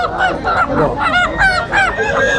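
A peacock gives loud, harsh honking calls, about six in quick succession, close by and dominating the scene at a tribal market in Purulia, West Bengal.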